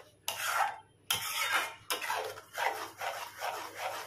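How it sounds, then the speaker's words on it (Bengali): A chhena and ripe mango mixture is stirred in a pan over medium heat, producing repeated rhythmic scraping strokes of a utensil against the pan, close and fairly even. "দিয়ে আমি কন্টিনিউ নাড়তে থাকবো যতটুকু অবধি শুকিয়ে না যায়।"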